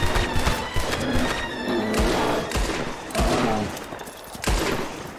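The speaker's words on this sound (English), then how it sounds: "Shoot this man." Rapid bursts of gunfire in the video game Red Dead Redemption 2, with repeated loud shots and thumps layered over dense, continuous game noise.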